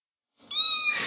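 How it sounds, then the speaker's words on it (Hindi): A cat gives a single clear, close meow, rising in pitch and then trailing off, heard on its own after a moment of silence. "एक म्याऊं की आवाज सुनाई दी।"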